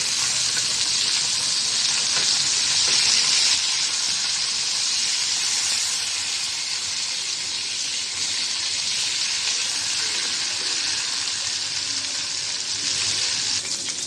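Sea surma fish sizzling in hot oil, a loud, steady frying hiss that holds constant throughout with no voices.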